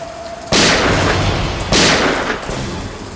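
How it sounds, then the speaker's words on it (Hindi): Two loud, sharp gunshot-like blasts about a second apart ring out against steady heavy rain, each leaving a brief echoing tail. "ये कहीं गोली चली है।"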